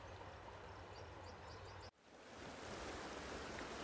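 A branch of the Coeur d'Alene River in Idaho flows in a steady broadband rush, broken by a brief dropout before the water sound returns, continuous and fairly close.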